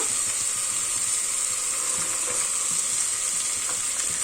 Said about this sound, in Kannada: ಹಸಿ ಬಟಾಣಿನೂ ಅಷ್ಟೇ ಒಂದು ಎರಡು ನಿಮಿಷ ಫ್ರೈ ಮಾಡಿ ಆಯಿಲಲ್ಲಿ